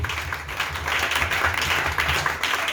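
A church congregation claps together in a steady burst of applause that lasts a few seconds, evenly spread and moderately loud.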